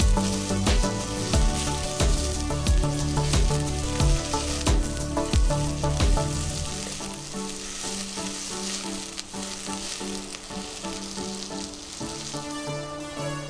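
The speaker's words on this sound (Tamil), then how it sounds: "நீளமா நறுக்கின 2 பெரிய வெங்காயத்தை சேர்த்து வதக்கிக்கிறேன்." Steady frying sizzle of sliced onions in a pan, with scraping stirs in the first half before it settles into an even hiss.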